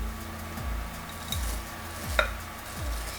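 Dry ingredients are folded into wet chocolate chip pretzel cookie dough in a bowl. Soft, rhythmic mixing strokes land about every three-quarters of a second, with one sharper clink partway through, all fairly quiet.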